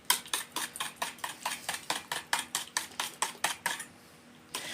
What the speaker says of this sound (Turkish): Bunu güzelce de şekere eris, eriyesiye kadar arkadaşlar karıştıralım şöyle